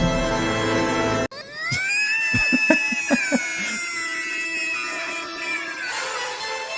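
A man lets out a single long, loud scream in a scene from the 1990 network TV series The Flash, rising and holding with a slight waver before fading against background sound.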